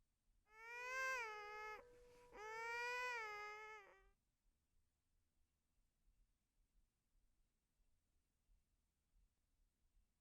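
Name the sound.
baby crying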